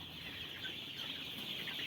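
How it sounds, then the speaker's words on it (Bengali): Farm chickens freed outside their poultry shed cluck softly in a faint, continuous background murmur. "এই মুরগি বাইরে চড়ে বেড়াচ্ছে।"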